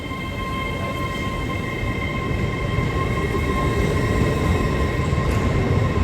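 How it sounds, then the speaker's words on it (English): An LNER London service bound for Aberdeen rolls into Darlington station with a loud, steady rumble of wheels and engine, a constant close roar with faint high whine that builds slightly throughout. "Also arriving in is a London LNER service off to Aberdeen."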